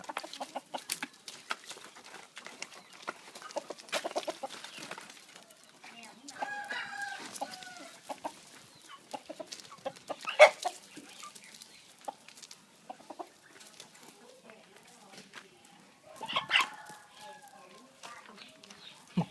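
Roosters scuffle and squawk in sharp, irregular bursts as a small rooster fights a large Burmese rooster, with scattered clucks and a few louder cries, while voices murmur faintly in the background.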